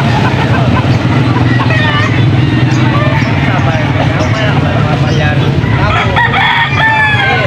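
Many roosters crow repeatedly in Angeles City, Pampanga, over a steady background of engine rumble and distant voices, the calls rising and falling through a busy outdoor scene.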